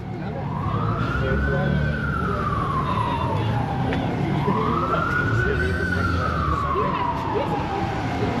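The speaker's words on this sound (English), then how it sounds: "All the sirens and busyness of Washington." Emergency vehicle sirens wail on a busy Washington DC street, rising and falling in two long sweeps over constant traffic rumble, loud and fairly close, with people talking in the background.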